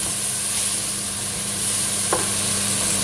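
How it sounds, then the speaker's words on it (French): Sliced leek and carrots sautéing in a pan with a steady soft sizzle and faint hiss, a brief stir or scrape near the end, close and continuous without speech. "on fait revenir, mais pas longtemps, hein, juste un peu que le poireau il fonde"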